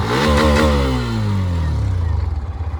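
A Hero Xtreme 125R Dual Channel motorcycle revved hard at full throttle in power mode: a loud close engine roar that climbs in pitch, then falls back to a pulsing idle.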